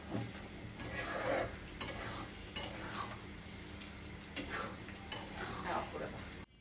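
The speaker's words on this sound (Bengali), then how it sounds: "তেলের মধ্যে দেওয়ার পরে আপনাকে একটু নাড়াচাড়া করতে হবে" Rohu fish roe sizzling in oil while a utensil stirs and scrapes the pan in repeated strokes, close and moderately loud.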